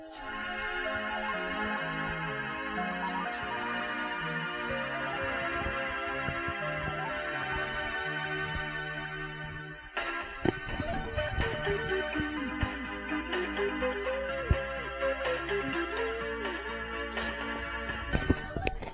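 Tracker music from a mod file plays on a first-generation Colour Maximite home-built computer: a steady chiptune-like tune with layered melodic lines and a beat, shifting to a busier, denser section partway through, with no talking.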